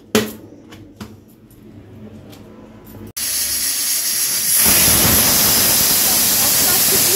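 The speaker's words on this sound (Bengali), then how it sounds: "প্রেসার কুকারে জাস্ট একটা সিটি মেরে নিলেই হয়ে যাবে।" A pressure cooker lets out one whistle in a home kitchen, a loud sustained hiss of escaping steam that begins abruptly and swells stronger, preceded by faint kitchen clatter and brief sounds.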